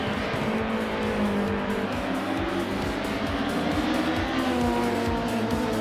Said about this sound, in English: Gina Jones is driving a 2007 Alfa Romeo 156G TA.